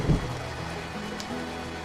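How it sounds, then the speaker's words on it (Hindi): Rain beginning suddenly on a rural hut and its yard, a steady hiss of drops on surfaces after a brief low thump at the start, even and continuous with no voices. "अचानक से बारिश शुरू हो जाती है।"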